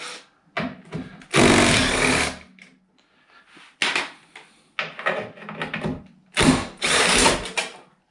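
Ratchet undoing 8mm spline bolts on a Golf 4 rear door lock, with bursts of rapid close clicking alternating with short pauses and fainter handling noises, no talking.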